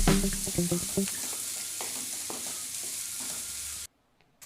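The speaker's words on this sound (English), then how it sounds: "It will take 2 to 3 minutes to fry all the vegetables." Vegetables stir-fried in a pan for egg fried rice, with a steady hiss of frying and a run of clattering stirs early on, close and fairly loud, before the sound drops out near the end.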